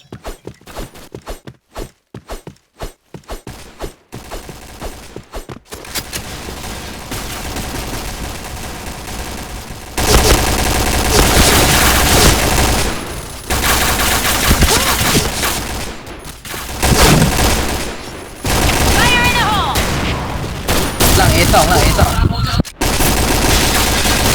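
Rapid bursts of video game gunfire from Counter-Strike: Global Offensive, sparse sharp shots at first, then long dense automatic volleys with brief pauses, loud and close, no talk over it.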